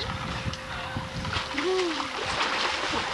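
A small child in diapers being lowered into water makes a soft splash and slosh amid steady water noise, with an adult voice calling out over it.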